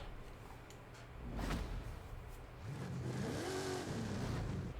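A 1993 Ford SVT Cobra R in Forza Horizon 5 revs its engine, a rising then falling whine that swells around the middle and again near the end, loud and steady with no talking.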